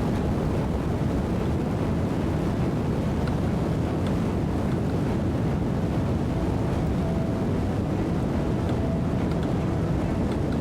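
A rocket engine at full throttle in Kerbal Space Program 2 gives a steady, loud roar that holds without a break from start to finish.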